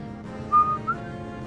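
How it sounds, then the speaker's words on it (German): A person whistles a short, faint tune of a few notes over a steady low background hum, in the middle of playing Final Fantasy XV. "Ich soll aufhören zu pfeifen. Das klingt immer kacke in der Bearbeitung."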